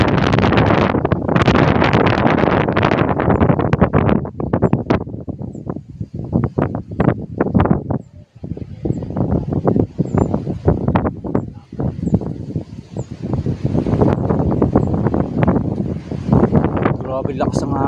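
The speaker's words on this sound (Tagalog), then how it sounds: "Grabe lakas ng hangin, oh." Strong wind buffets the microphone at a fishing spot, a steady broadband roar with gusts that rise and fall throughout, while people talk over it.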